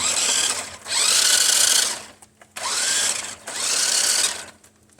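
Two motors of a 1992 Tyco Fast Traxx toy car, freshly oiled, whir in two loud bursts, each about a second long, with short pauses between them and no talking.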